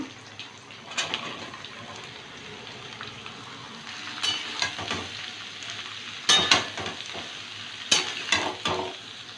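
Snake gourd frying in a pan with onion and slit green chillies, sizzling steadily while a spatula stirs in several clattering bursts, with no talking over it.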